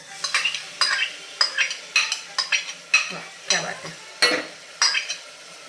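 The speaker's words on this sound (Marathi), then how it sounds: "आणि हा थोडासा एक साधारण दोन ते चार मिनटे आपण तुपावरती थोडासा परतून घेऊया" Washed broken wheat (dalia) being stirred and roasted in melted ghee in a pan, with repeated scraping strokes of a spoon and a soft sizzle in a steady, quick rhythm, close up and without talk.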